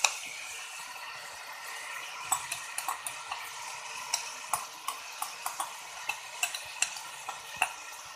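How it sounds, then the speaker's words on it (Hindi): Ground onion going into browned mutton in a pot for aloo gosht: a steady frying hiss with a series of sharp spoon clicks and scrapes against the pot, close and fairly quiet, no voices. "अब हम इसमें डाल रहे हैं अपनी पिसी हुई प्याज"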